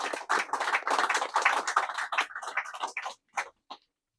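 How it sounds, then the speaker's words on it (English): Audience applause at a book event, a burst of close, lively clapping from a small crowd that thins out into a few scattered claps before stopping. "So I think we get another applause."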